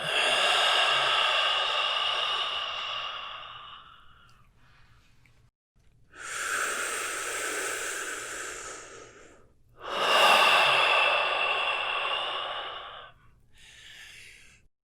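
Deep, slow exhalations during a yoga flow, three long audible breaths out, each fading off, with a short softer breath at the end; close and clear with no talking.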